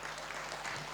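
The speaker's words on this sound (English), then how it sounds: "give them a lot of applause first" Applause from a conference audience at a PMI Northern Conference 2022 event, a steady dense wash of clapping filling the whole moment with no pause.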